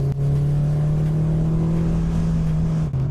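A PGO Speedster sports car's engine holds a loud, steady drone in second gear while driving, the pitch creeping slightly higher before a brief dip near the end, with no talk over it.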